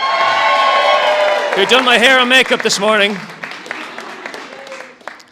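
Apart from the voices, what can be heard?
wedding guests cheering and applause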